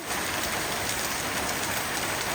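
Steady Kerala rain falls hard and evenly on surfaces close by, a dense continuous hiss with no voices.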